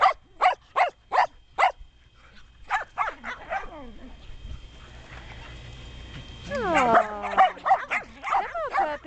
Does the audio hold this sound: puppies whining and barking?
yes